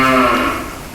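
A calf on a hi-tech dairy farm gives a single loud, close moo that starts strong and gradually fades over about a second.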